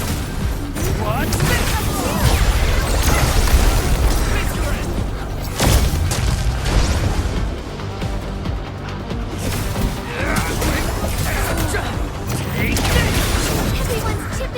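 Bomb blasts from the video game Arknights Endfield, repeated dense booms and crashes layered with game music and effects, loud and continuous throughout with brief lulls.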